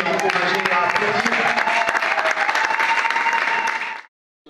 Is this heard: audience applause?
yes